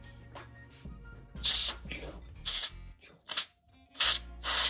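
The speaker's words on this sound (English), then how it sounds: "You take off the wheel and you just spray it." Five sharp hissing spray bursts of cleaner onto a removed electric skateboard wheel, close and fairly loud, separated by short pauses, with some quiet handling noise in between.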